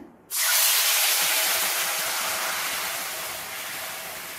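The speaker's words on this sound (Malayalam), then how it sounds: "ഇതിലേക്ക് നമ്മളിനി ശർക്കര നീര് ചേർത്ത് കൊടുക്കണേണ്" Jaggery syrup is poured into a hot pan with sweet poha, bursting into a sudden loud hiss that begins abruptly and then tapers slowly as it continues.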